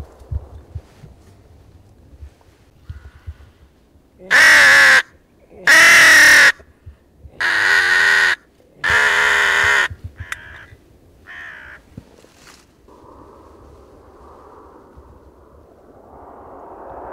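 Hooded crows give four loud, close caws in a row, evenly spaced, each a harsh drawn-out call, with faint rustling and quieter bird sounds between them during a crow hunt in the Swedish countryside.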